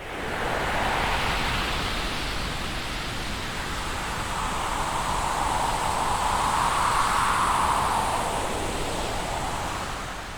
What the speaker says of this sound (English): this one is called Wind Peaks, and there's always that resonance that kind of moves in between noise to kind of simulate that wind sound